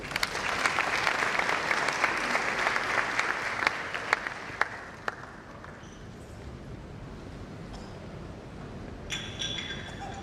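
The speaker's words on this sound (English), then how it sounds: "Please applaud him." Audience applause at a professorial inaugural lecture at KNUST, a full, even clapping from a seated crowd that gradually thins and fades, with a few scattered claps lingering near the end.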